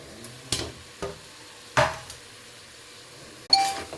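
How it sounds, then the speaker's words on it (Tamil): A spoon scrapes and knocks against a metal pot while mutton is stirred with salt and ginger-garlic paste for mutton curry, a few separate clanks spaced apart with quiet gaps between, no talk. "நல்லா கலக்கி விட்டுறணும்."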